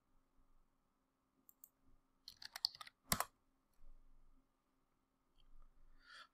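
Typing on a computer keyboard while a bash command is entered: scattered single clicks, then a quick cluster of keystrokes with one louder press near the middle, a few soft taps after, under a faint steady hum.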